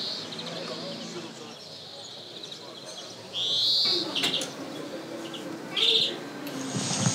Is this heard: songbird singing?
yes